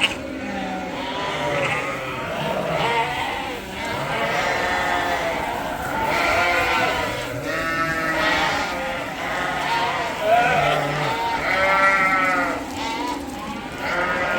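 Suffolk sheep bleat repeatedly in a barn, several overlapping calls near and far through the whole stretch, with someone talking at times among them.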